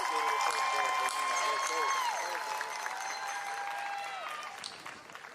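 At the Southern University and A&M College Fall 2020 commencement, graduates applaud in a steady patter of clapping mixed with whoops and cheering voices, fading slightly as it goes on.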